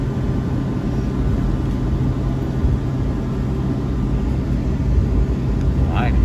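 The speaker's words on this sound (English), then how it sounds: "This could be a quick takeoff." Boeing 757 airliner cabin during takeoff roll, a steady loud low engine drone filling the interior with constant rumble.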